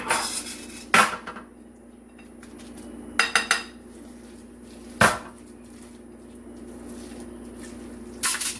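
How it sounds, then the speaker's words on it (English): Spoon scraping and clinking against a baking dish while a chocolate granola bar mixture is transferred into it, with several sharp close knocks spaced apart over a low steady hum. "So I'm going to transfer this to my baking dish."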